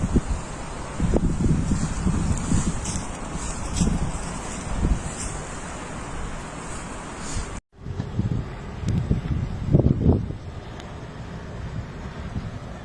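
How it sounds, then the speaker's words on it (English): Strong wind roars steadily through a snowstorm in Poland, buffeting the microphone in rumbling gusts with a brief drop-out partway through. "it suddenly became white, also due to the strong wind accompanying the precipitation"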